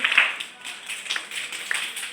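Three fingers tapping against the palm in a rain clap mimic falling rain, making a steady, moderately quiet patter of crisp little taps with a few sharper accents.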